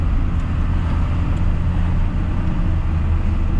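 A 1st Gen Cummins truck with an automatic transmission under steady throttle, a loud, continuous low diesel drone and road rumble heard from inside the cab, with no clear break from a gear change.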